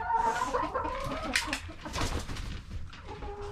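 Chickens cluck and coo in a steady, busy chorus inside a coop, close by, with overlapping calls and no talking.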